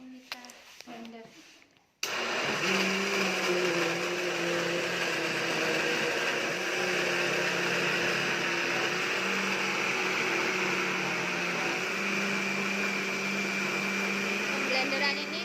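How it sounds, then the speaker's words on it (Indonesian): An electric blender whirs loudly and steadily, blending vegetables, fruit, papaya, fermented tempeh and a little water into a local microorganism liquid, starting abruptly after a brief voice and running continuously. "Langsung kita blender."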